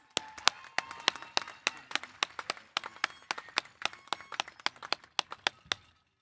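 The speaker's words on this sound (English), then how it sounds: "Let's give our valedictorians another round of applause" Sparse, distinct claps ring out at a high school graduation, roughly twenty sharp hand claps from a small group, moderately near and fairly quiet with no talk over them.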